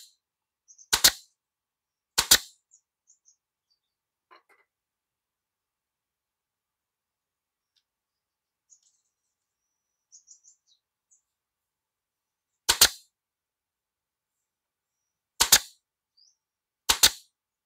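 Nail gun, a 230V electric model, firing nails in five sharp, loud cracks spaced irregularly, with long near-silent gaps and a few faint clicks between shots.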